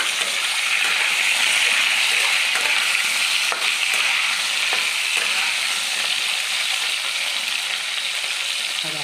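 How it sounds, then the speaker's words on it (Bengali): Okra and potatoes, with a little pointed gourd, fry in hot oil in a steady loud sizzle, broken by occasional scraping and clinking as the vegetables are stirred. "আর একসঙ্গে ভালো করে আমি তেলে ভেজে নেব"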